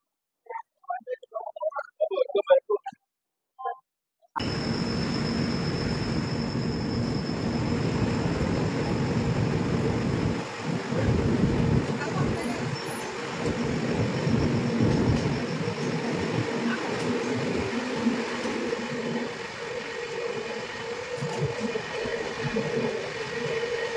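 Garib Rath Express train rolling off from a station platform, a steady, loud rumble of wheels and carriage noise that holds throughout, with brief talk at the very start before the motion begins.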